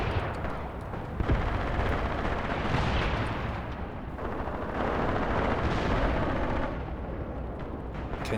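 Anti-tank guns and tanks trade fire during a forest tank duel in Graviteam Tactics, where dense rumbling booms and rolling blasts blend into a continuous wash of heavy battle noise with no talk.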